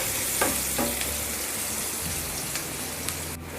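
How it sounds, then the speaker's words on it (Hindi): Chopped onion sizzling and frying steadily in a pan, a continuous close crackle with faint stirring scrapes and no voices. "इसे भी हमें जब तक इसका कलर चेंज नहीं होता और हल्का हल्का गोल्डन ब्राउन नहीं होता, जब तक हमें प्याज को फ्राई करना है।"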